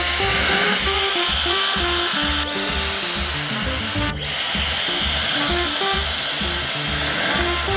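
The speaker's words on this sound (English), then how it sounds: "I'm not the best at blow drying my hair" Hair dryer blowing hair in a steady, loud, continuous whoosh close to the microphone, with music playing underneath throughout.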